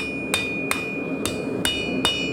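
Five sharp, evenly spaced hammer blows ring out on a blacksmith's anvil while a beginner drivehook is forged from hot steel. Each strike comes up loud and close over a steady background hum.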